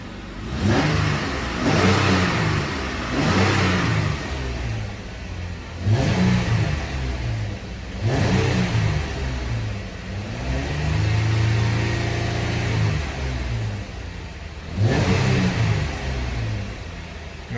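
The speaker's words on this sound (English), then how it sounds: "I'll go and start the Jeep up and rev it up so you can hear how it sounds with the stock exhaust" A 2014 Jeep Wrangler with its stock exhaust revs repeatedly from idle, about six or seven throttle blips in a row, close and loud, with one longer hold in the middle.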